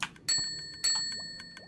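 Two bright metallic dings from a bell in a Minecraft Bedrock furniture addon, each a sharp strike with a long ringing decay, spaced about half a second apart, close and clear with no talking.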